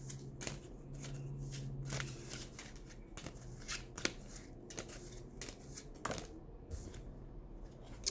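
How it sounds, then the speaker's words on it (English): Tarot cards being shuffled by hand, a steady run of soft riffling flicks and slaps, close and fairly quiet, with a brief hum partway through. "you're going to watch me fumble trying to shuffle this"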